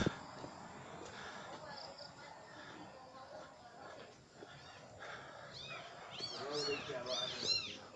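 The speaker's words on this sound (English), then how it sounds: "I think you guys can hear them meowing." Newborn rescued kittens meow in a cluster of thin, high cries toward the end, close by, over a busy background with someone talking nearby.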